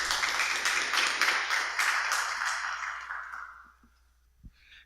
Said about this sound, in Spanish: quisiera que lo recibamos con un fuerte aplauso como bienvenida